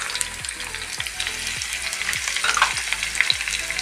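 Sliced shallots and curry leaves fry in a pan with a loud, continuous sizzle, and a spoon scrapes and stirs at a steady rhythm, about every half second.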